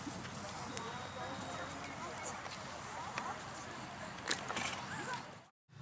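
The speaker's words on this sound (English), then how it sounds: "This is Fim Fim, a 6-year-old, 17-3 Swedish warm blood gelding, owned and ridden by Jenny Armstrong" Hooves of a Swedish warmblood gelding clip-clopping at a horse show, a soft steady rhythm of footfalls heard at a distance under low ambient background noise.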